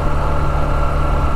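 A motorbike engine holds second gear on a hill slope near Purulia, a steady low drone with a rough, pulsing throb, close and loud for the whole short stretch. No voices.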